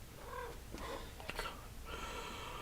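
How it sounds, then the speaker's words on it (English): A cat purring close by in a home, a steady low rumble broken by a couple of brief sharp sounds that may be soft meows. "Let's give Fonzie screen time, everyone. Meow, meow, meow, meow, meow"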